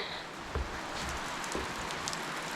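Light rain begins sprinkling outdoors at a site with a car port concrete foundation, a soft, steady hiss of patter with a few scattered drops and faint knocks, no one speaking.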